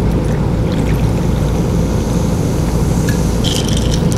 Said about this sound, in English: Let's go ahead and hit it with a little bit of soda water.